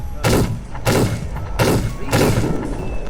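Four heavy booming gunshots from the Lancaster Pistol in The Wild West game, fired at a steady pace about half a second apart, each a loud close thud with a short decay.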